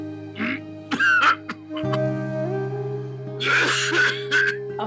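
A few harsh coughs and throat-clearing bursts, close and loud, over a steady low background hum.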